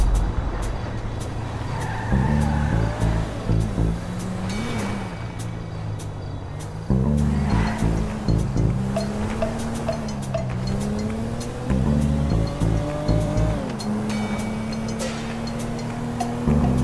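A car driven in the video game GTA V, its engine revving in repeated surges with tires squealing through turns, loud and continuous with brief pauses between bursts.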